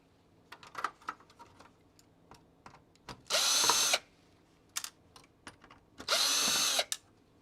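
A power screwdriver whirs in two loud bursts of about a second each while removing the motherboard screws from an original Xbox, with softer clicks and handling noises between the runs.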